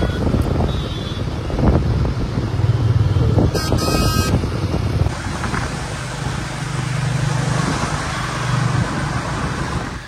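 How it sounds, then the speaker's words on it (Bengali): A motorcycle carrying two riders travels along a road, its engine droning close and steady amid surrounding traffic noise, with a brief high electronic beep partway through. "দুজনে বাইকে যাব"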